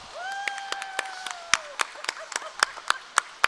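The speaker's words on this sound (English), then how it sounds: "Everybody give Taylor a round of applause." An audience at a junior market goat show claps in scattered, moderately loud bursts that grow sharper toward the end, with a brief tonal sound early on.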